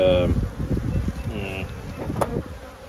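Honeybees buzz around an open hive during an inspection, a close steady hum with individual bees whining past, partly under wind and speech.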